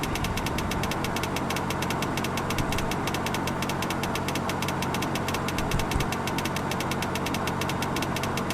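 Aircraft engine number one starting up, a steady dense mechanical drone with a rapid regular ticking pulse throughout, loud and constant with no talk.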